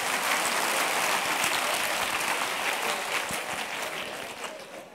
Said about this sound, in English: please give a warm applause to your partner